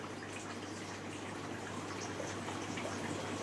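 Water runs steadily along a channel whose high spots were cut lower, a soft, constant rushing with no breaks.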